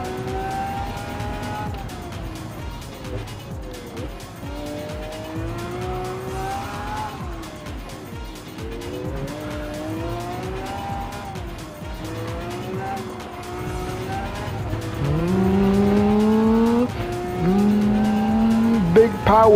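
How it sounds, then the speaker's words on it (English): A 2011 Lamborghini Aventador LP 700-4 V12 in Gran Turismo 7 revs hard through repeated rising and falling sweeps, climbing to a louder high-pitched howl near the end, with faint tire squeal and occasional talk underneath. "Big and almighty V12 engine."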